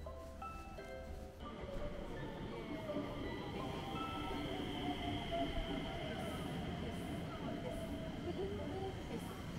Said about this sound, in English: The train stopped. The train is coming.